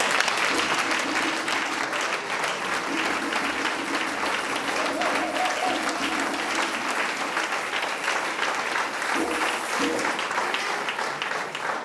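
A church congregation at a Sunday service applauds in sustained, dense clapping that fills the room for about twelve seconds, with faint voices and cheers mixed in.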